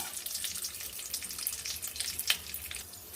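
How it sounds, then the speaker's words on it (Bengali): Chopped pumpkin stalks go into a hot frying pan with a few dried red chillies and five-spice, giving a dense, continuous hissing sizzle that stays close and fairly even, with no talk. "এবার দেখুন ডাঁটাটা আমি ঢেলে দিচ্ছি"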